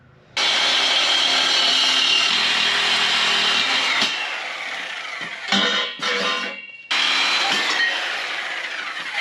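A power tool cuts metal on a 1964 Ford F100 pickup, grinding loudly and continuously for several seconds, then stopping briefly, starting again in short bursts and resuming a long steady cut.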